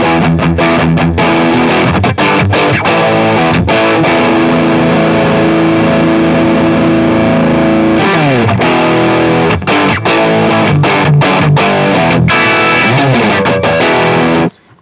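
Electric guitar played through the distortion of a Zoom G2FOUR multi-effects unit, with heavy sustained distorted chords strummed continuously and loudly with no talking.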